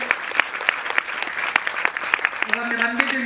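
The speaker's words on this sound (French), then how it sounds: "Est-ce que nous pouvons applaudir, s'il vous plaît?" Audience applause in a hall after a speech at a public event, dense steady clapping with a voice starting to speak near the end.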